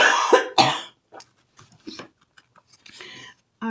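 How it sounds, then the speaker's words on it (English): A man coughs twice in loud, close bursts, followed by fainter scattered throat noises and small clicks. "I'm sorry, I will be coughing."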